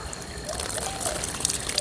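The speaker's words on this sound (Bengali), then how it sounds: "গাছের ওপরেই জল দিচ্ছি" Water left from soaking lentils is poured onto a plant in a steady splashing trickle, close and fairly quiet, with faint voices in the background.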